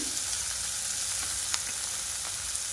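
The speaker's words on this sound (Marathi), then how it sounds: "हे सर्व आपल्याला हाय फ्लेमवर छानपैकी परतून घ्यायचे आहे" Vegetables for hakka noodles stir-fried on a high flame, a loud, dense, continuous sizzle that barely changes, with a few faint scrapes and ticks of stirring and no talking.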